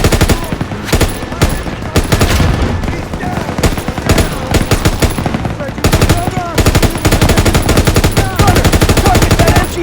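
MG-42 machine gun fire in a Call of Duty WWII battle rattles in loud, rapid, sustained bursts close by, mixed with other gunfire and battlefield noise.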